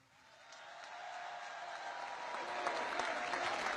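Audience applause during a speech in Poland, swelling from soft to steady, dense clapping that holds for several seconds with no talk over it.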